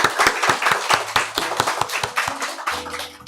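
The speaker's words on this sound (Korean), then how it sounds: "기쁜 날을 주신 하나님께 우리 감사의 박수 한번 올려드리겠습니다." A church congregation in Korea clapping in thanksgiving during a Sunday morning service, sharp rhythmic claps close up building into a ragged round of applause, with a sustained organ or keyboard tone entering toward the end.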